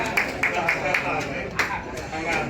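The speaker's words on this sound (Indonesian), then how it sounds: "tepuk tangan dong" At an Indonesian halal bihalal and talk show, an audience claps in a loose, uneven rhythm while a presenter talks over them.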